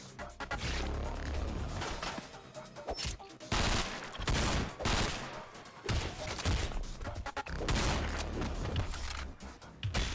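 Gunfire from the Madness Combat animation crackles in repeated bursts with crashes and mechanical clatter between them, loud and close, with a voice briefly heard under it.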